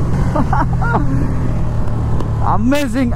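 A Ducati Streetfighter V2 motorcycle engine drones and rises in pitch as it accelerates, loud and close with steady wind noise, while someone speaks over it.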